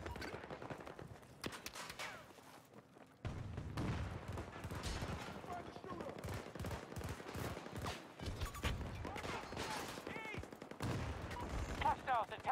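Rapid gunfire from a Battlefield 2042 Breakthrough match with 64 players: dense bursts of automatic rifle and machine-gun fire crackle continuously, some shots close and loud, others distant, amid battlefield noise and game voice callouts.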